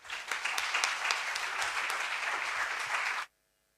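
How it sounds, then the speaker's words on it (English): A conference audience at a model UN opening ceremony in Barcelona gives a full round of applause, steady and dense for about three seconds before stopping abruptly into silence. "Please give her a round of applause."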